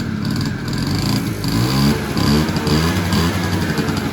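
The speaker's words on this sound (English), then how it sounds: "very hot, the engine, and it's running perfect" A Honda Melody scooter engine runs hot after tuning with a steady, close putter that rises and falls slightly in a few gentle revs, with no talking over it.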